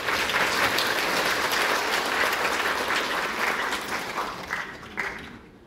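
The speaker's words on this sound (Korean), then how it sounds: "역시 여러분 큰 박수로 모시겠습니다." An audience at a poetry-and-song concert breaks into loud, sustained applause, dense clapping that holds steady for several seconds before thinning and fading out.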